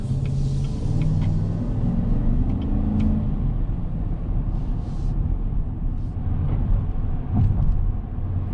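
A 2021 GMC Sierra 1500 pickup truck driving, heard from inside the cab as a steady, loud low road rumble and engine drone with faint ticks and rattles on top, continuous throughout with no talking.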